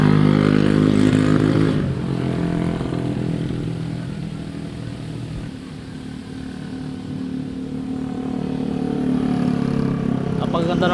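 A motorcycle engine rumbles past at the Fantasy World park in Lemery, Batangas, fairly close and loud, fading slightly mid-pass before rising again, amid steady outdoor background noise.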